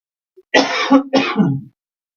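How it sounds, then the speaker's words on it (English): Two hoarse coughing bursts back to back, close and muffled by a hand covering the microphone, with a rough throat-clearing quality and no talking. "Hold on just a second while I cover up my mic and cough."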